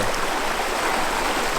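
A cool mountain stream rushes in a steady, close, broadband wash of flowing water, with no voices.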